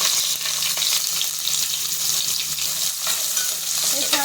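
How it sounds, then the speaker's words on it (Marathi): Onion frying in oil with chopped garlic, ginger and whole spices for a mixed dal vegetable rice, a steady close hiss of sizzling with light stirring throughout, no voices. "त्याच्यामध्ये आपण कांदा टाकूया"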